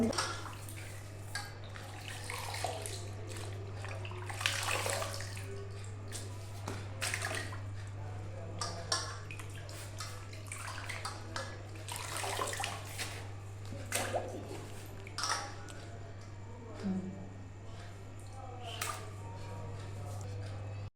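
Water sloshes and pours as soaking potato slices are drained, with clattering of a vessel and a constant low hum underneath.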